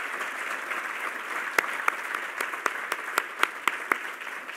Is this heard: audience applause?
yes